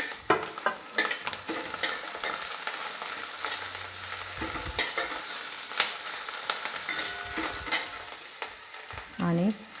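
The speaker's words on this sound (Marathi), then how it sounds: "आता आपण त्यामध्ये कोबी टाकून घेऊ।" Cabbage stirred and fried in a pan for idli Manchurian, with steady sizzling and repeated scraping strokes of a spoon, close and clear, no talking.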